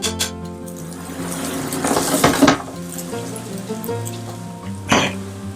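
Garlic sizzles steadily in hot oil in a pan for Sichuan fish-fragrant eggplant. The frying stays close and continuous, with stirring swells and a short clatter near the end.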